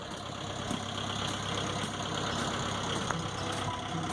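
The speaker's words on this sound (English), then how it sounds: "Hope you can hear me over the tractor. I got it warming up over here." A Mahindra 2638 tractor engine idles steadily while warming up, its continuous rumble and clatter holding an even level throughout, close by, with no talking.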